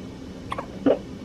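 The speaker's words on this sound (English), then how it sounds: "her first hiccups." A newborn baby girl hiccups quietly twice in quick succession, with short, soft squeaks close by in a calm room.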